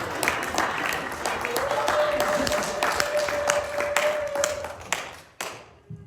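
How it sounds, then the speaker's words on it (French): Church congregation claps, scattered distinct hand claps forming moderate applause that thins out and stops near the end, with a faint sustained tone and some murmuring beneath. "nous pouvons applaudir pour la sœur"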